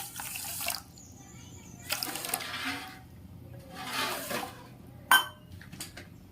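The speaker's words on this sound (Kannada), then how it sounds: "ಇವಾಗ ಸಕ್ಕರೆ ತೊಳೆಯಷ್ಟು ನೀರು ಹಾಕ್ತೀನಿ." Water is poured over sugar in a pan to make syrup for a sweet, coming in several short splashing bursts with quiet gaps between and a few light clinks of kitchenware.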